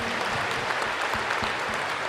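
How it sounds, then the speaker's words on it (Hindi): An audience at a silver jubilee honour ceremony claps loudly and steadily in a dense, continuous burst of applause. "तो हम सभी इनके लिए विशेष रूप से जोर से ताली बजाएंगे"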